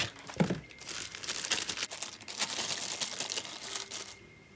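Plastic crinkles and rustles close by as a bag is pulled and torn open, a busy stretch of crackling that settles at the end.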